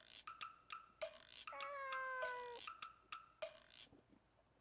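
A single drawn-out cat meow rises and falls in a visual novel scene, with sharp repeated clicks and taps before and after it and no talk.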